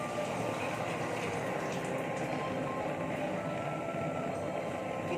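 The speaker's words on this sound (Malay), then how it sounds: "Kita masak sehingga ianya mendidih." A thick agar-agar mixture bubbles and simmers steadily in a pot, a continuous close rumbling boil with no talk.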